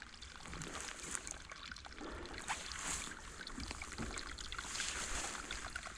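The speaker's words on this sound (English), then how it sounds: "Can't see water, but can hear water." Faint, steady trickling and gurgling of a stream flowing underground on Bleaklow moorland, muffled from below, with occasional soft thumps nearby.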